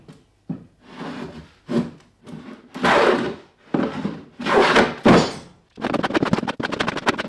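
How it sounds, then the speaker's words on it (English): A hand plane shaves pallet wood for a drawer in a run of rough rasping strokes, loud and close, each pass separated by brief pauses, ending in a quicker series of short scraping strokes. "I will start the planing."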